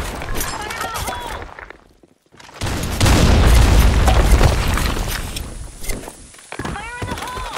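A grenade explosion in the Blackshot online shooter video game, a loud, sustained booming blast after a brief lull, with radio-style voice callouts before and after.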